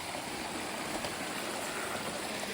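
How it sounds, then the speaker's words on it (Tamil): Water running down a mountain channel on the Parvathamalai trekking trail, a steady broadband rushing hiss that stays constant throughout, moderately distant and unbroken by voices. "அது வாட்டர் ஃபால்ஸ் இல்லை, ஏதோ தண்ணி போகிற பாதை நினைக்கிறேன்."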